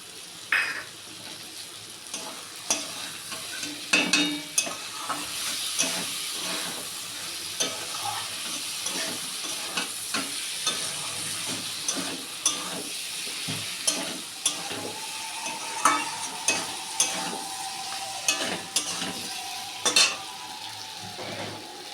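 Rice fries in a pan for a fish-head curry, a steady sizzle broken by frequent scraping and knocking stirs, close and busy throughout, with a faint tone near the end and no talking.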